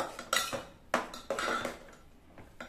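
A utensil stirs vegetable Maggi noodles with chaat masala in a pot, giving a quiet series of irregular metallic clinks and scrapes against the pot's side, about six distinct knocks close by.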